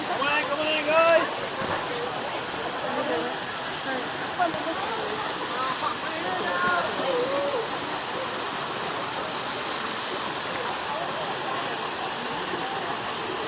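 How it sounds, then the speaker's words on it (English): A waterfall at Yelapa, a beach-and-snorkeling shore excursion stop, roars as a steady broadband rush of falling water throughout, with people talking faintly underneath. "the waterfall."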